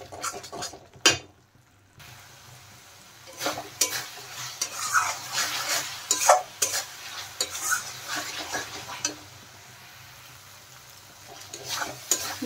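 Masala spices sautéed in oil for restaurant-style rajma, a spoon stirring and scraping the pan with repeated clanks over a soft sizzle, with no one talking.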